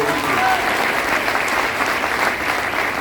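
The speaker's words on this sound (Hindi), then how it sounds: "हमारे केशव रावत जी पर जोरदार तालियां उनको" Loud, dense applause fills a direct selling success event in honor of Keshav Rawat, a Gorakhpur crown president, sustained evenly and close throughout.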